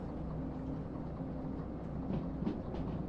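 A train with rail cars runs along the track in the Derail Valley railway game, a low steady rumble with faint rolling rattle that swells slightly toward the end, quiet and without speech.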